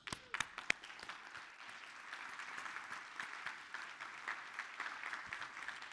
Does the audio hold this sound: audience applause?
yes